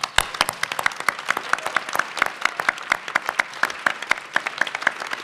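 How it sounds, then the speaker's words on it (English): Scattered applause from a modest audience at a pitch competition, honoring the teams that did not advance, with individual claps distinct and steady throughout. "I think all the teams that didn't make it deserve a round of applause"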